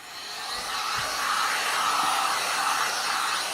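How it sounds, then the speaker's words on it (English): Heat gun blowing hot air across foam while shaping a Kydex holster, a steady, loud, broadband rushing roar that holds constant throughout without a break. "I just run over it real quick with the heat gun and just warm it up."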